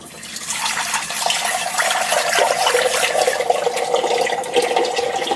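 Water pours steadily into a pan of balsamic mushroom chicken with beef bouillon, a continuous splashing rush that starts abruptly and holds at close range.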